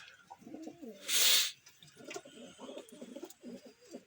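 Pigeons coo softly in low, burbling murmurs throughout, interrupted once by a loud, brief rush of wing flapping or wind noise.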